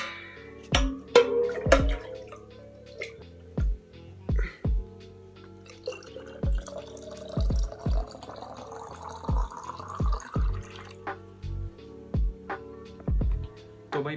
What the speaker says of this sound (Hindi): तो पानी भर के एक बोतल में ले जाता हूँ